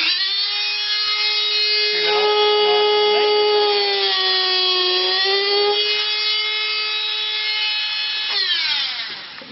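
A Dremel rotary tool cutting coral frags whines steadily and loudly at a high pitch, its tone dipping slightly as the bit bites into the coral and rising again as the load eases, running continuously throughout.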